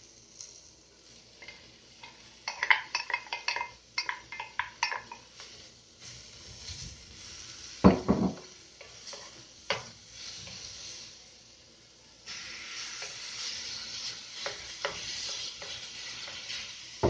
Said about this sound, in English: So now I'm going to add in the spinach and spaghetti squash